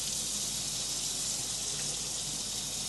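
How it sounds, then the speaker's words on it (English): Hot water runs in a steady, soft, even hiss as it is poured onto stuck honey, with no pauses and no speech. "A little bit of hot water if your honey's stuck like mine."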